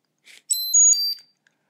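A short, bright electronic beep from a golf device's trigger button being held, a couple of quick tones rising into a single clear chirp, preceded by a faint click.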